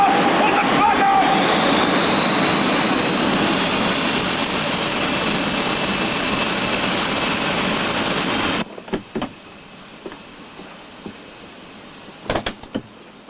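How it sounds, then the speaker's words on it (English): Jet engine blast on an RAF operating area: a loud, sustained broadband roar with a rising high whine, which cuts off abruptly to a quieter background broken by a few brief knocks. "jet blast is a particularly nasty problem"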